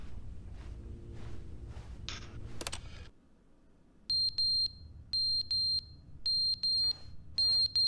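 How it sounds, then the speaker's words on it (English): Smoke alarm low-battery beeps in the video game The Stanley Parable: after a stretch of muffled speech and clatter, a shrill electronic chirp sounds in repeated short pairs and triplets, loud and close, with a low hum beneath. "Fire alarm? Oh no. Oh, the batteries need to change. I hate that noise."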